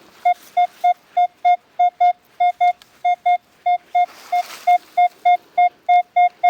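Metal detector in the field under a small tree gives a steady string of short, evenly spaced electronic beeps, loud and close, with no talking.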